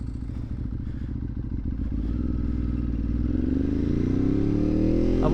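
A Ducati 1098S superbike is ridden on the road, its engine rumbling loud and close with rising revs as it accelerates, over steady wind and road noise.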